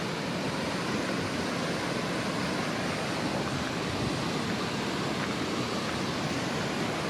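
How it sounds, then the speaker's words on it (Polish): Waterfalls in Bosnia roar in a dense, unbroken wash of falling water, loud and close, with no voices. "Macie kilka takich pięknych wodospadów."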